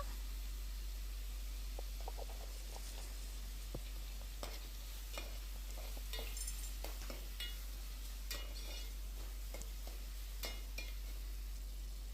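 Onions with salt frying in a pan, a steady soft sizzle with scattered crackles and occasional clicks of stirring, close and fairly quiet, no voices.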